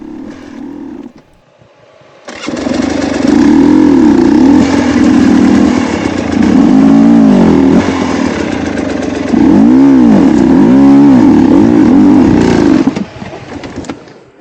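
Motorcycle engine climbing La Malinche, loud and close, rising and falling through repeated revving surges and gear changes after a quieter opening stretch, then easing off near the end.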